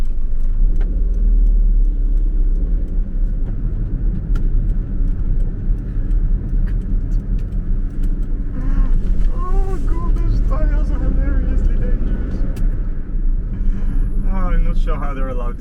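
A Daihatsu Cuore L701 drives along with a steady low engine and road rumble from inside the cabin, with a rattle, faint jingling and wind buffeting, and a voice speaks briefly toward the end.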